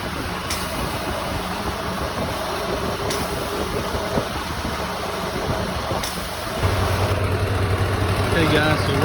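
Blue Barron Compact 45 truckmount engine running at a steady idle, a continuous low rumble with a faint high whine, rising slightly in level near the end.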